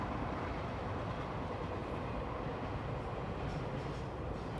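A train passing outside, a faint continuous broadband rumble and rolling wheel noise heard from indoors, steady throughout with no voices.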